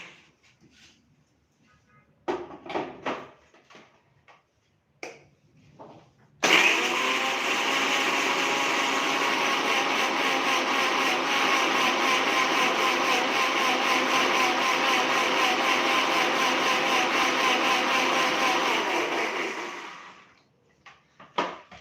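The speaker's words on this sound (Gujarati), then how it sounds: "અહીંયા આપણે મિક્સર જારમાં ચટણીને પીસી લેશું" A kitchen mixer grinder jar blends green chutney with a little water, starting abruptly into a loud, steady whirring roar that holds for about thirteen seconds before winding down, after a few light clinks and handling sounds.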